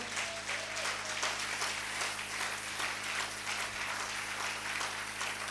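A church congregation at a Sunday worship service applauds steadily, a dense, continuous wash of clapping from many people filling the room, with a low organ or keyboard drone sustained underneath.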